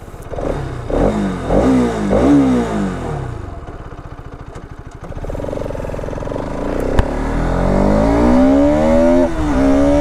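A Bajaj RS 200 motorcycle, 2025 edition, starts and revs hard in repeated rising bursts, then settles into a loud, steady, close-up engine note that climbs again toward the end.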